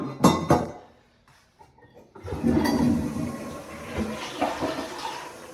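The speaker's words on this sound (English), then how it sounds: "Flushes beautifully with the lid on." A newly installed toilet flushes with the tank lid in place; a lid clinks down first, then water rushes loudly and swirls close by for several seconds.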